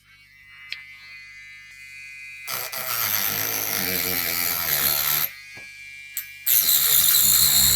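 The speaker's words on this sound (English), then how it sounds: "I call it a grinding pen, but I think it's officially an engraving pen." An electric engraving pen grinds and cuts in two bursts of loud, harsh buzzing, one long and one short, separated by a quieter hum and brief clicks, close up with no talking.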